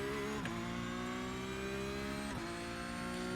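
A race car accelerating in the iRacing sim: a steady, high-pitched engine whine climbing through the revs, with two brief dips at gear shifts, continuous and fairly close, with no talk.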